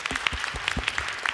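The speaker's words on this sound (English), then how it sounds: "Give yourselves a round of applause." Applause at a festival event in Union Chapel, with individual claps distinct and fairly sparse and soft, as from a small audience.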